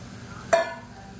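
A spoon gives a single quick clink and scrape while stirring a handful of peas into vegetables sautéing in a pan, close and brief, over a soft steady background.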